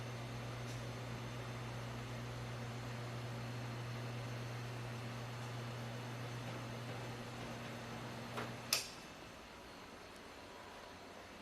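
Rotating rack inside a Reed 25 pan commercial oven, a steady low motor hum with a faint whirring drone for about eight seconds, then a couple of clicks and a clunk as it stops, leaving quiet room tone.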